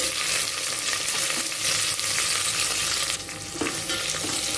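Chopped onion, green chili and curry leaves fry hard in a hot pan, a loud continuous hissing sizzle with stirring scrapes and a brief dip in intensity partway through.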